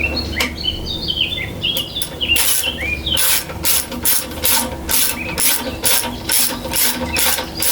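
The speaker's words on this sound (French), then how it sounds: "je vais approcher les 4 vis avant de vraiment serrer pour que tout s'aligne bien" A ratchet clicks in quick repeated bursts while screws are tightened on an old Yanmar engine, close and crisp, with brief pauses between runs of clicks and faint birdsong in the background.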